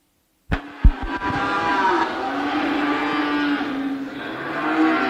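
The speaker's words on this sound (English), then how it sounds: "Angus Cross heifers" Angus Cross heifers at a commercial cattle show: a couple of sharp knocks, then a long, loud, sustained moo that rises and carries for several seconds, close by.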